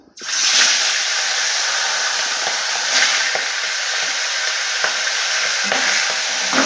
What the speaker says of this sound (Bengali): এই তেলের মধ্যে মাছের মাথাগুলো ভেজে নেব